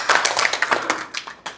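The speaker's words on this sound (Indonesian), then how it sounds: "Tepuk tangan untuk kita semua." Scattered hand clapping from a small group in a classroom session, a short burst of claps that thins out and fades within a couple of seconds, with no talking over it.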